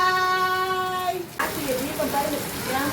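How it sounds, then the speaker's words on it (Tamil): Rain falls at a home during a Karthigai Deepam celebration, a steady broadband hiss of close, dense drops. It begins after a sustained tonal hum cuts off, and faint voices are heard over it. "மழை அடிக்குது தீபம் விளக்கு ஏற்றி முடிச்ச உடனே கரெக்டாக மழை வந்துச்சு"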